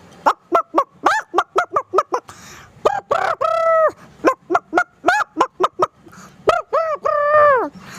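A child imitates a chicken up close: rapid clucking bursts followed by drawn-out squawking crows, repeated in several rounds.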